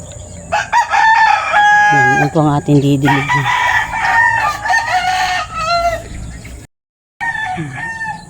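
A rooster crows loudly several times with chickens clucking around it, and a voice speaks briefly near the end.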